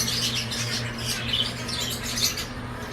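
Parrots, budgerigars, lovebirds and cockatiels in a backyard aviary keep up a steady, busy chorus of overlapping squawks and chirps, close by and fairly loud, with no pause throughout.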